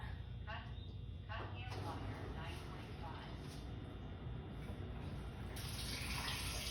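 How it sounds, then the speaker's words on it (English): Water being poured, a steady gushing stream under a constant background hiss, running for several seconds with a brief louder surge near the end. "let's pour our healthy water"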